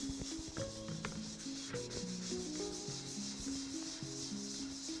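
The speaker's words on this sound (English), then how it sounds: "we can just dampen our pad again and start to give it a really good scrub" A damp scrub pad rubs hard over a rusty sarbloh iron utensil in a continuous, close, gritty scrubbing stream that goes on without pause.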